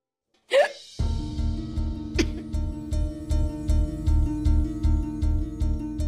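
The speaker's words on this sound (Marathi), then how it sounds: "आयाला उचकी लागली." A woman in a Marathi village drama gets a sudden hiccup: a sharp vocal catch rises out of silence, then a pulsing, rhythmic background score runs beneath a second catch.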